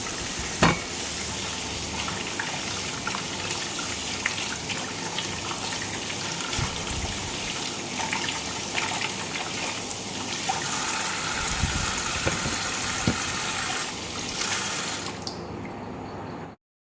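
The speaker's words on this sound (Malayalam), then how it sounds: "ഈ മധുരക്കിഴങ്ങ് നന്നായി കഴുകിയെടുക്കാം" Sweet potatoes scrubbed in water, with continuous splashing and sloshing, scattered knocks and clatters against the vessel, steady and close before cutting off abruptly at the end.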